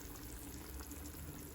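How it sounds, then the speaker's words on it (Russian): A pot of Uzbek plov simmers on minimum heat, giving a low, constant bubbling hiss that stays even and quiet throughout, with no voices. "И пусть кипит где-то"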